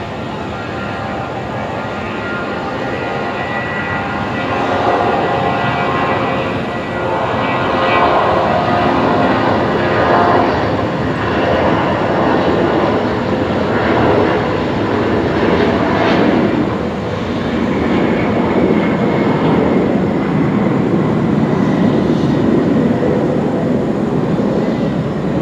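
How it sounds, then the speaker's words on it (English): A Jetstar Airbus A320 Classic jet rolls down the runway for takeoff at night at Brisbane Airport, its engines a loud, steady broadband roar that holds throughout, swelling slightly midway. "next departure rolling. Let's pick it up. Looks like a Jetstar 320 Classic."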